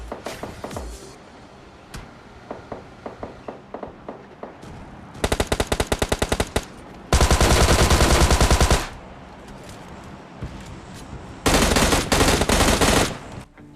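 M16 rifle fire in the PUBG Mobile Lite battle game, scattered single shots giving way to loud rapid automatic bursts, the longest lasting nearly two seconds, with distant gunfire between them.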